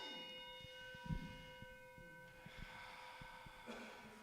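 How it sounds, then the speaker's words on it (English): A gong struck to open a prayer service rings out with a sustained, shimmering resonance that slowly decays, heard quietly in a hushed room with faint soft knocks underneath. "Let's take a deep breath while the gong vibrates."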